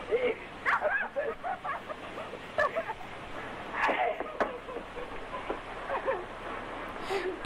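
A woman in the 1967 horror film Spider Baby imitates a dog with her voice, producing a run of short yapping barks and whimpering yips in quick irregular bursts, moderately loud against a faint background.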